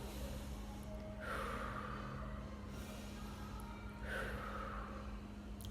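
Slow, deliberate breaths taken as a calming breathing exercise, two long audible airflow sounds spaced a few seconds apart, soft and close over a low steady hum.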